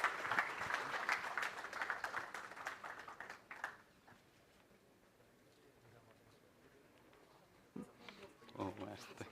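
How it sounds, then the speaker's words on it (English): A conference audience gives a round of applause for a speaker, moderately loud clapping that fades after about four seconds into a quiet hall, followed by a voice speaking. "Can we have a loud round of applause for Gautam,"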